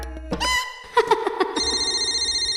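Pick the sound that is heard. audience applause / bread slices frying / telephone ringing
telephone ringing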